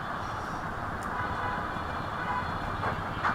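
The Sonar Bangla Express runs on rails between Dhaka and Chittagong, heard from on board as a constant low rumble and rattle with faint squeals, and no voices.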